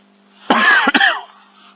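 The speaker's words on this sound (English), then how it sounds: "Sorry about my cough there." A single harsh cough bursting out close up, a quick double hack with a brief catch in the middle, then quiet.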